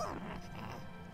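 A dog in the video game Bulb Boy, a short yelping bark followed by a brief muffled whimpering sound, close and fairly loud over game background noise.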